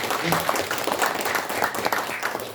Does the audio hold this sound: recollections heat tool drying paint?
no